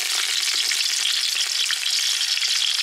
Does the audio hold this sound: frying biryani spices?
yes